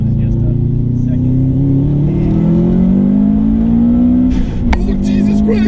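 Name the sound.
2005 Subaru STI turbo engine revving with loud blow-off valve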